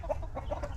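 Chickens and roosters on a farm cluck continuously in soft, repeated calls, a close flock chattering with no talking.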